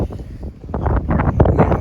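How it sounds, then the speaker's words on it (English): Gusty outdoor wind buffeting a microphone the day before a storm, a loud low rumbling roar that swells and surges unevenly with no clear speech. "pardon the wind."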